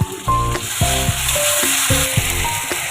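Gobindobhog rice goes into potatoes and onions already frying in oil, giving a loud, close sizzle that holds steady for a few seconds, with tonal sounds running underneath.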